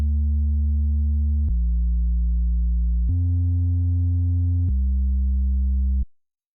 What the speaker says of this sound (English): fruity blood overdrive, just to get some distortion into that sub bass